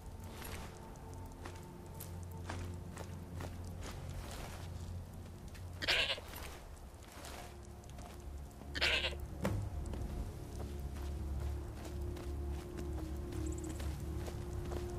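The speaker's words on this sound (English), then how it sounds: "Come with me, goat." A goat in the video game Skyrim gives two short, bright bleats several seconds apart over a steady low ambient hum, with faint soft footstep-like taps scattered throughout.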